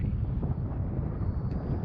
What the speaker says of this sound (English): Where the heck did that wind come from again?